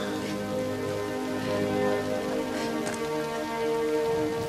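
Rain falls steadily on a hard surface as a dense, even patter that lasts the whole stretch, with no talking over it.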